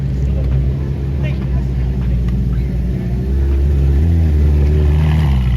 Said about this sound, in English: next to them it looks like we have a Camaro Z28 that's chopping away